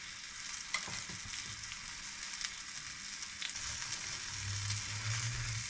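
Constant sizzling of floured calf's liver frying in a hot pan, a steady crackle with a few small pops and scrapes, no voices.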